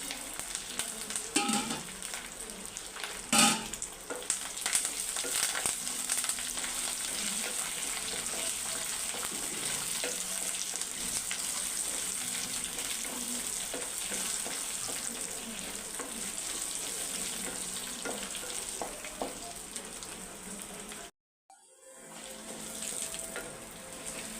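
Garlic and curry leaves sizzle steadily in hot oil for a tempering, a continuous close frying hiss with stirring clatter, briefly cutting out near the end before resuming.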